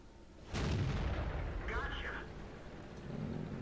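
A Jagdpanzer IV tank destroyer fires its main gun in World of Tanks, one sudden heavy boom followed by a long rumbling decay, over a low engine hum.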